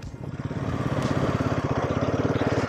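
A motorcycle engine runs on a Ladakh mountain road, its close, steady low rumble pulsing in quick, regular beats that hold even and loud, with no talking.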